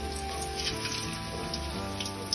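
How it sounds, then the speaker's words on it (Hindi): Potato slices fry in hot ghee in a kadai, a close, steady crackling sizzle like heavy rain that holds evenly without any talk. "अब आपने कढ़ाई में घी को गर्म कर लेना और इनको आपने फ्राई करते जाना है"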